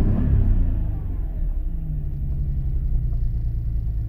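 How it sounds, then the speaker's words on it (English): A salvage Bentley Flying Spur engine idling roughly and missing on a couple of cylinders, a loud, steady low rumble with an uneven pulse that carries on throughout with no talking. "now she's running a little smoother. Still seems like it might be missing on a couple cylinders"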